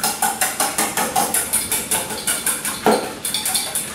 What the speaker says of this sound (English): while you're beating up the eggs, the poor little eggs, you beat some eggs